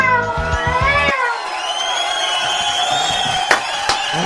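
A cat meows in drawn-out, wavering cries over a noisy background, with a couple of sharp clicks near the end.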